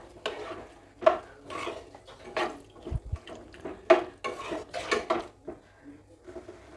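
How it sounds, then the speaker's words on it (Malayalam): A spoon stirs cooked green peas curry in a pan, with repeated scraping and clinking strokes against the metal, close and uneven in rhythm, a few faint thuds between. "എന്നിട്ടൊന്ന് നന്നായി ഇളക്കി കൊടുക്കുക കേട്ടോ"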